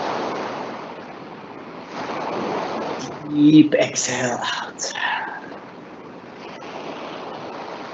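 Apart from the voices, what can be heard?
ocean waves crashing on a beach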